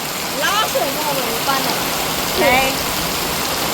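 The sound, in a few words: heavy rain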